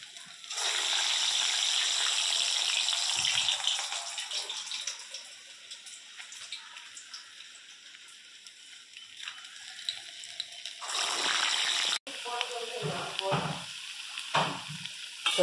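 Vadai frying in groundnut oil gives a steady, bright hiss and crackle that runs throughout, with clattering stirring and turning noises toward the end; no one speaks.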